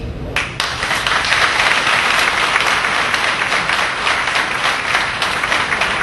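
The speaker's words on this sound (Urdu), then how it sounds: "اور آپ اس کی تالیاں کیوں بجا رہے ہیں؟" An audience at a project launch ceremony in Mirpur applauds, a dense, steady burst of clapping that lasts several seconds without any talking over it.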